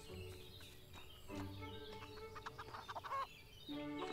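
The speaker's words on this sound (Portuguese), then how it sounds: "Aí tem que encontrar a galinha." A farm chicken in the video game Everdream Valley clucks in short, repeated bursts over soft in-game ambience and light background music, fairly close and moderately loud.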